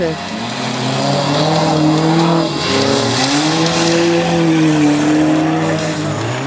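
Cheap cars worth under 1000 zł race at the Wrak Race Silesia, engines roaring loudly and continuously with rising and falling pitch as tires squeal, close and dominant throughout.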